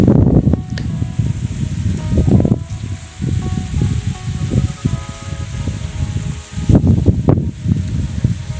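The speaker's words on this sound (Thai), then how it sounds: "ลมพัดมาก" Wind gusts across a field of Job's tears being harvested on a farm in northern Thailand, a blustery low rumble that swells and fades in waves, loudest near the end, with no talking.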